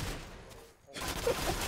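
Rapid bursts of gunfire from the player's weapon in a multiplayer shooter game, dense and continuous with a short gap midway, loud and close.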